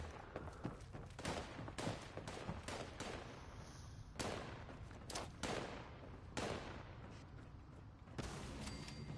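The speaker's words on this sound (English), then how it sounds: "We gotta do fireworks." Fireworks going off in the Fallout 76 video game, heard as rapid, loud popping and crackling bursts in dense clusters with short gaps between volleys, continuing across the whole stretch with no talking.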